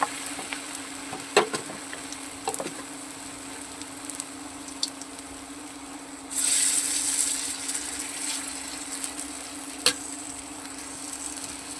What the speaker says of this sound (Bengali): তো আমি এবারে একটু পেঁয়াজিটা ছাড়বো।